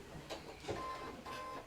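A sewing machine stitches down a seam in a steady mechanical whir, with a few brief bursts and pauses, faint and close with no talking.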